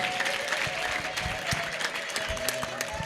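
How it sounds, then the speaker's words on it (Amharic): Congregation applauding during an Ethiopian church service with a prophet preaching, a steady wash of clapping from a crowd mixed with some voices, moderately loud and continuous throughout. "አጨብጭቡ ለጌታ ክብር"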